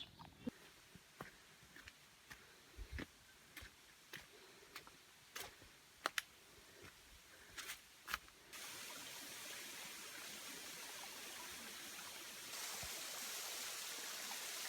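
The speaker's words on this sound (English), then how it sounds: "We're just looking at the waterfall." A waterfall on New Zealand's Te Araroa trail between Camp Bay and Linkwater: sharp clicks and ticks come first, then a steady, wide rushing of falling water fills the second half at a moderate level.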